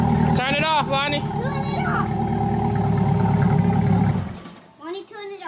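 A Chevy C8 Corvette with a new aftermarket exhaust roars loudly close by, a sustained high-revving engine drone that cuts off abruptly near the end, with people talking over and after it.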